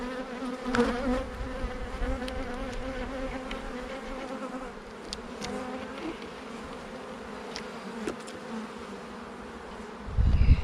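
Honeybees drone in a dense, continuous buzz during a springtime beehive inspection, close and fairly soft, with occasional clicks and a louder bump near the end.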